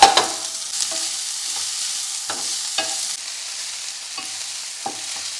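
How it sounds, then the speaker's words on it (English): Onion, garlic and ginger fry in beef tallow as the base for slow-cooked pork belly, a loud steady sizzle with a few soft stirring knocks and no talking. "Onion, garlic and ginger in."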